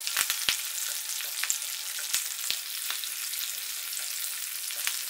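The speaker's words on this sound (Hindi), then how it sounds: "ये एकदम फ्लटर करने लगेगी तो हम इसमें हरे मिर्चें डाल देंगे और इसको भून लेंगे अच्छे से।" Mustard seeds and green chillies fry in hot oil with a steady, bright sizzle, broken by scattered sharp pops and crackles from the seeds.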